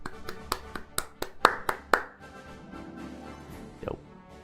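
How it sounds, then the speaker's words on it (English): A livestreaming gamer claps his hands alone close to the microphone, about eight sharp claps in a quick, slightly uneven rhythm, followed by quiet with a faint soft knock near the end. "I will give them an applause on that one."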